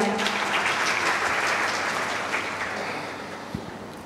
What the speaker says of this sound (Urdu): سر عارف حبیب صاحب کے لیے تالیاں